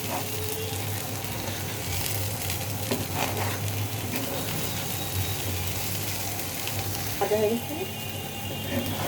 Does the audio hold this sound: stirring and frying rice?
yes